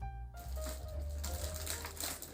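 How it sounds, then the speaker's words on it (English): Scissors snip and crinkle through the plastic packaging around a whole raw chicken for a Sunday roast, a close, busy run of rustling and cutting with no talk. "So I'm going to cut it out of the plastic."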